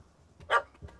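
A single dog bark rings out at mid-distance in The Witcher 3: Heart of Stone video game, one short sharp yelp followed by a fainter second sound over a low, quiet background.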